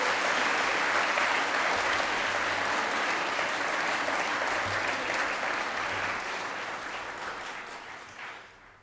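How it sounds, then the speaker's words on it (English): School chapel audience applauding, a dense, steady round of clapping from many hands that slowly fades away at the end. "Round of applause for Mr. Backhouse."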